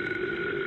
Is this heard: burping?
yes